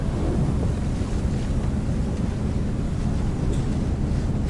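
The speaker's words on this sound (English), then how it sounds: "I highly recommend this boat ride." Strong wind roars across the microphone on a Star Ferry crossing in Hong Kong, a loud, steady rush with water and boat noise blended underneath and no speech.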